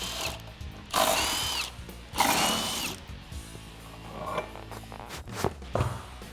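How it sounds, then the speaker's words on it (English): Lug nuts coming off a Jeep Wrangler JL using a six-spline lug key and a 21mm socket on a power tool, two loud whirring rattling bursts followed by softer clicks and metallic handling. "I'm going to use our 6-spline lug key and a 21mm socket."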